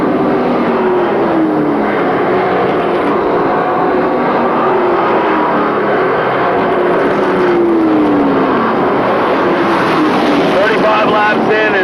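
Pickup-style race trucks roar along the back stretch of an oval track, a sustained loud engine drone with pitch sweeps as they pass. A commentator talks over it the whole time.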